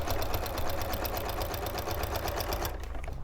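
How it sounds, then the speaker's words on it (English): A sewing machine with a walking foot stitches quilt binding in a fast, even mechanical rattle close by, then stops abruptly near the end. "See with the walking foot, it's pulling both layers through very nicely."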